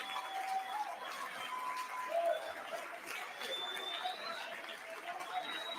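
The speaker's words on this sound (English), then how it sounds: "Keep clapping, keep standing, let your voices be known" An audience clapping steadily at a Martin Luther King Jr. Day celebration, a continuous wash of applause from a crowd with a voice speaking over it.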